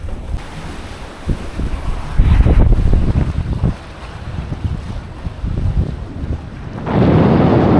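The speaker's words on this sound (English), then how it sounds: "wind's picking up a little bit" Wind roars and gusts across the microphone with water rushing past the hull of a sailing catamaran, swelling louder toward the end.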